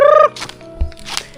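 A backyard chicken calls out once in a short, loud harmonic burst, followed by faint scattered clucks and rustling nearby.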